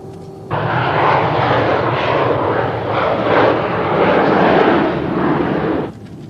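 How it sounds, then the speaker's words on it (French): Aircraft engines on a passenger plane taking off for Geneva swell up suddenly into a loud, steady roar that holds for several seconds before cutting back down. "Nous allons décoller dans 1 minute pour Genève"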